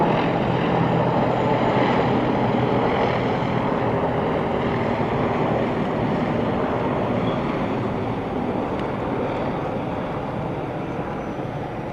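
Military transport and attack helicopters fly overhead during a national independence celebration flypast, a loud steady broadband rotor roar that fades slightly over twelve seconds, with no speech.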